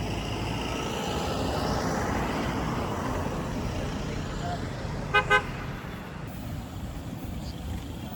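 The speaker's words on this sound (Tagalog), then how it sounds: "Okay, busina sa amin." A vehicle on a mountain road in Taiwan gives two quick, short honks at people walking by. The honks are brief and moderately loud over steady wind and road rumble.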